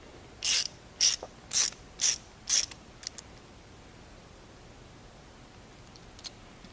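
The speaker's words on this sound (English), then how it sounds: "using your 19 millimeter socket to loosen the drive side end cap of the hub" A ratchet with a 19 mm socket loosens the drive-side end cap of an ISO mountain bike hub, giving five crisp, evenly spaced clicking bursts up close, then a few faint ticks before quiet.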